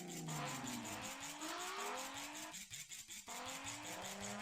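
Volkswagen VR6 engine, a loud continuous revving drone with rising pitch sweeps and a brief dip mid-way, heard alone without voices.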